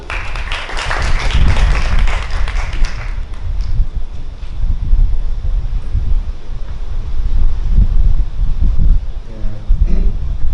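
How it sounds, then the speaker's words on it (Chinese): Audience at a press conference for a 2016 contemporary Hakka art exhibition breaks into steady applause, dense clapping loud at first then thinning into a noisy, wind-buffeted room. "掌声欢迎"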